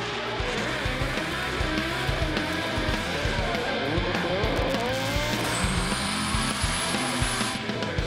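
Drift cars at ASB Baypark Stadium, Tauranga, roar and squeal their tyres continuously at a Pro Sport Restricted Class round, a dense loud wash of engine noise and screeching rubber with a sustained high squeal late on.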